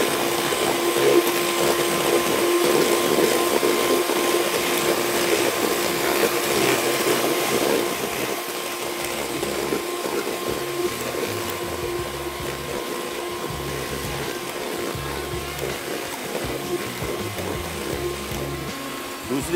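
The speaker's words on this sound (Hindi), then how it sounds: "तो फेंटना शुरू कर देंगे।" An electric mixer beats chocolate cake batter in a kitchen, a steady whirring motor hum that runs on continuously and dips slightly in loudness partway through.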